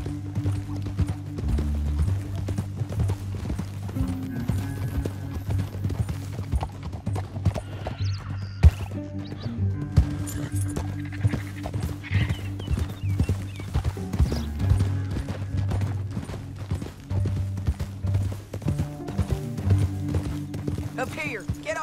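Horses' hooves clip-clop steadily in the Western video game Red Dead Redemption 2, a rhythmic trotting beat under a swelling musical score, with occasional whinnies and characters talking.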